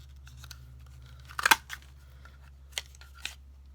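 Scissors snipping through Christmas craft paper tags, a few sharp close cuts with one stronger snip near the middle, otherwise quiet.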